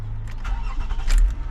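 A Toyota Camry engine cranks and catches when the ignition key is turned, a brief low rumble that swells briefly to a start, heard close with no talk.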